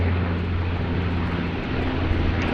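A Dash 8-300 turboprop airliner arriving at Sydney Airport, heard as a steady, loud, continuous engine drone with low humming tones throughout, no voices over it.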